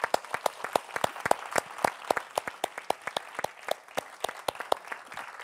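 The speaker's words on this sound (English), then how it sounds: "let's clap it up for Cam." A small audience at a festival session in Boston claps with distinct, individual hand strikes, fairly quiet and evenly spread, with no voices over it.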